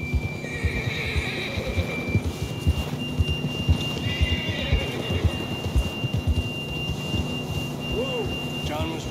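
A horse in the video game Red Dead Redemption 2 clip-clops steadily along a trail and lets out a whinny, with game ambience and a voice in the background.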